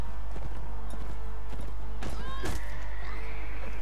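Horse hooves and a whinny in Mount and Blade Warband medieval combat, several clopping hoof hits with a short neigh near the middle, over a steady game background hum.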